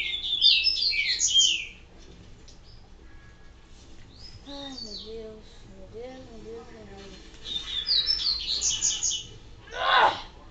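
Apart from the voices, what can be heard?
birds chirping in Resident Evil 4 video game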